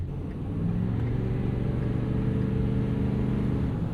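Ford F-350 Lariat Super Duty with the 6.7 Powerstroke diesel engine while driving, a steady low rumbling drone from the cab that swells slightly after the first half second and holds at a moderate level.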